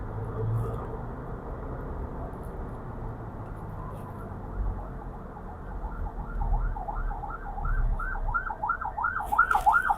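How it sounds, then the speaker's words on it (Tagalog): Ambulance siren on a highway near Lipa City, Batangas, heard from inside a moving car: a wailing tone that grows louder and faster toward the end over road rumble. "Pag may ambulansya, pagbibigyan dapat yan."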